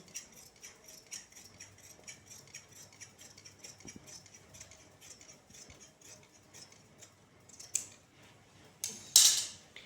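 Scissors cut through four stacked layers of fabric for a palazzo, making a steady run of quiet, rhythmic snipping clicks, with a couple of louder crunchy cuts near the end.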